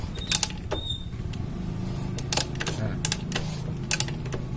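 A Suzuki Shogun 110 motorcycle engine with a freshly reassembled clutch is turned over by hand on the kickstarter, giving close, irregular mechanical clicks, creaks and ratcheting knocks over a low hum, with no engine firing.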